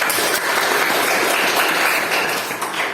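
A room of trainees at a teacher-training session claps after a presentation, giving a short burst of dense, even applause that stays loud throughout.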